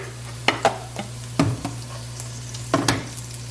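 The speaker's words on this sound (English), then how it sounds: "add another teaspoon of oil and put the rice in" Rice fries in a little oil in a pan with a low, steady sizzle, broken by several distinct scraping and tapping strokes of a spatula at close range.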